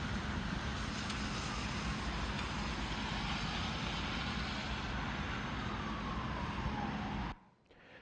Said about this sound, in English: You hear a siren of an emergency vehicle before you're seeing that in the video.